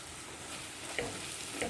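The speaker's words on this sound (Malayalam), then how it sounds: "നന്നായിട്ടൊന്ന് വഴറ്റിയെടുക്കാം" Onions and chili powder sautéing in a pan: a soft, steady sizzle with a couple of faint scrapes from stirring, fairly quiet, with no talking.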